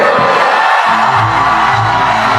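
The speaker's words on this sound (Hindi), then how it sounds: "एक बार जोरदार ताली बजा दीजिए खान सर के लिए।" Large university audience at Lovely Professional University cheering and applauding for Khan Sir after his talk: a loud, continuous wall of crowd noise with whoops and shouting voices rising over it.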